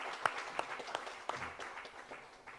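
A Sunday worship congregation in a church claps to welcome a newly registered member, a few distinct claps standing out within a thin, quiet patter that fades away.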